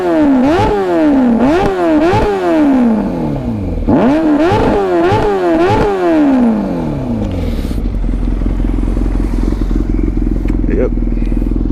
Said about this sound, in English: Exhaust doesn't sound too bad. It sounds pretty damn good.